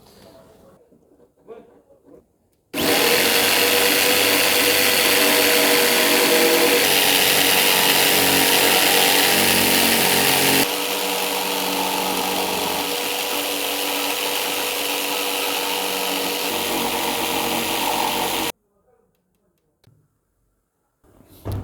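A jigsaw cutting wood on a shutter buzzes continuously for about fifteen seconds, loud and close, changing pitch slightly midway, with quiet moments before and after.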